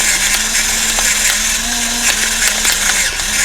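Black pepper is ground in a pepper grinder, a steady dense rasping and crunching that runs loud and unbroken for several seconds with a faint low hum beneath and no voices.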